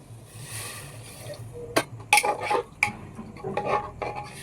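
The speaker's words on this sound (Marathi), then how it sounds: "आता यामध्ये आपण ओतूया 1 तांब्या पाणी." Water poured from a small pot into a cooking pot for soybean khichdi, with metal clinks and scraping of utensils, a few sharp knocks, and a soft splashing pour in a home kitchen.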